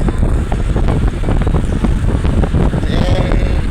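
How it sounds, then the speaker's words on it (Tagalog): Strong wind roars and buffets against the microphone on a boat off Olango Island, Philippines, with a steady rushing noise, water and engine rumble beneath, loud and continuous throughout. "Ang lakas ng hangin."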